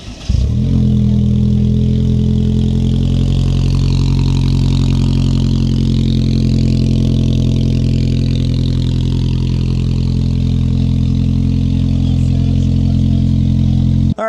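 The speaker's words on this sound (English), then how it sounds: "So let's go start the Tacoma up." A Toyota Tacoma fitted with a Carven exhaust idles and revs at an outdoor expo booth, producing a loud, steady, deep engine drone that holds nearly unbroken for the whole stretch, close to the microphone.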